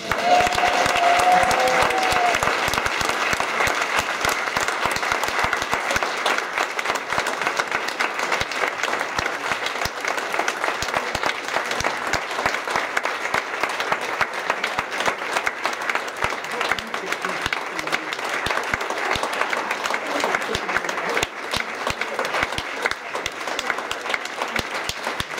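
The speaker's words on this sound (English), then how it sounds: "I'm sure he will join me to applaud the standout read winner" Sustained audience applause fills a room at a running club's awards dinner, a dense steady wash of many hands clapping at even loudness throughout, with a brief voice near the start.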